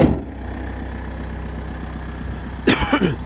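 Toyota Avensis 2.0 D-4D diesel engine idling after a cold start, a steady low rumble close by, broken near the end by a person's coughing.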